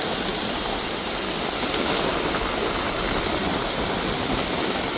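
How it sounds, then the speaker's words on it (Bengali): Heavy rain pours down in Delhi, heard from indoors near a window as a dense, steady hiss with no break for the whole stretch. "এই দেখুন কি প্রচণ্ড জোরে বৃষ্টি হচ্ছে"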